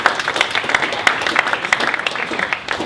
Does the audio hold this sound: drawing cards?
no